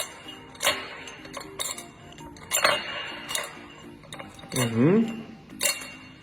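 Small puzzle piece clinking and rattling against the inside of a glass bottle in a series of separate sharp clinks spread across several seconds, with a longer rattling scrape near the end.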